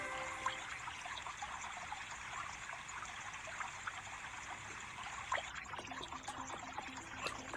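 Soft trickling water runs steadily at low level in a mobile 3D puzzle game built around a fountain, joined near the end by a few brief tonal game effects.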